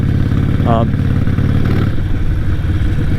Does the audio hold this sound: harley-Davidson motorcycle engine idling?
yes